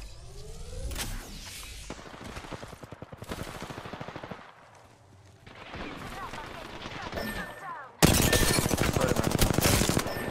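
Rapid automatic gunfire from an Apex Legends match, bursts of machine-gun fire and shots crackling loudly and nearly continuously, with a harsher, louder volley near the end and occasional faint in-game voice lines underneath.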